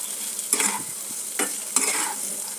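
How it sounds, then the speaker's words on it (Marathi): A spatula stirs boiled potato into a vegetable sizzling in a pan for a festival thali, with a constant bright sizzle and three short scraping stirs, close and without speech. "याला चांगलं मिक्स करूया आणि याला 5 मिनिटं झाकून ठेवूया"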